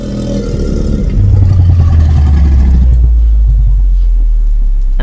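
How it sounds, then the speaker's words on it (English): A large dinosaur with a big snout and sharp curved teeth lets out a deep, rumbling growl that swells loud and low, sustained for several seconds with no voices over it. "The dinosaur growled."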